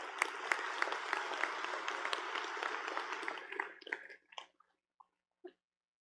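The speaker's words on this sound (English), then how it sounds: "That was a good point to applaud them." Applause at a community college commencement ceremony rolls steadily for nearly four seconds, then thins out into a few scattered claps before dying away.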